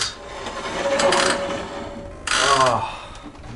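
Grinding, crunchy brakes on a trashed, cheap motorcycle, two scraping bursts close by, the second sharper and rasping, with someone speaking faintly in between.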